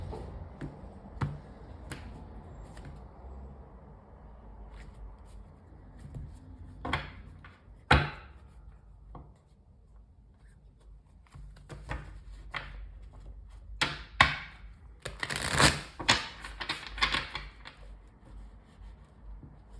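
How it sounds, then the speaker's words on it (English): Tarot deck being cut and handled, with sharp card snaps and riffling bursts scattered through a quiet room, clustering into a busier flurry of shuffling toward the end. "They're having me cut the deck."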